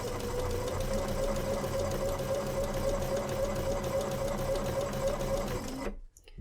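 A sewing machine fitted with a quarter-inch presser foot stitches a curved seam in fabric, a loud, steady, close-up whir that runs without a break for about six seconds, then cuts off abruptly.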